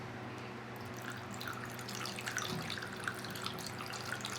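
Water is poured through a funnel into the top of a well pipe, making a steady, continuous trickling rush with faint splashes and a low constant hum underneath.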